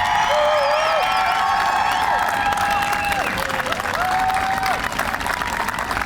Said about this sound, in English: I think these men and women deserve another round of your applause.